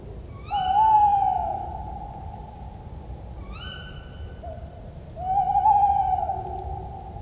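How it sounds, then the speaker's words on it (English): Tawny owls call out of doors: long wavering hoots, then a second drawn-out call a few seconds later, moderately loud over a low steady background hum. "It's the tawny that makes the classic twit-to-woo owl call"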